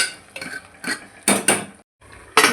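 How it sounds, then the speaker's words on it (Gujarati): A spoon stirs crushed garlic into a cluster bean (guar) curry in a pot, giving a series of sharp metallic scrapes and clinks in an uneven rhythm, close up, with a brief pause before the last stroke. "અંદર એડ કરી દઈશું લસણ, મિક્સ કરી દઈશું."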